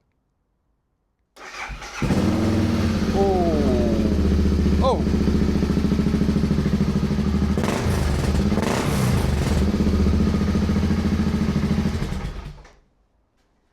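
A motorcycle with an aftermarket GPR exhaust starts and idles loudly with a deep, rumbling exhaust, revving briefly a couple of times before cutting off; a voice exclaims once.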